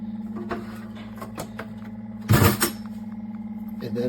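A SimPure Y7P-BW UV countertop reverse osmosis water filter hums steadily with a low motor drone and faint ticking, interrupted by a brief louder clunk midway.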